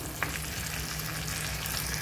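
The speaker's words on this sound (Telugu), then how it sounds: "ఇప్పుడు ఇందులోకి చికెన్ వేసుకోవాలి" Chicken pieces soaked in salt water hit a hot pan for gongura chicken, a steady close sizzle of frying running throughout with a brief faint clink near the start and no talk.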